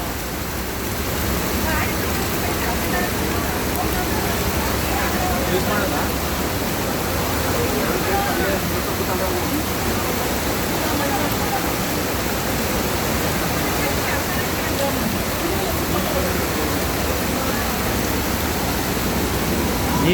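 Heavy rain pours down in Bangalore as a dense, steady roar of falling water that stays loud and unbroken throughout.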